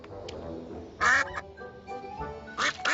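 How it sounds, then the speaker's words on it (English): A duck quacks in short, raspy bursts, a couple of close loud quacks and scattered softer ones, heard over a quiet outdoor background. "Look, there's a duck over there."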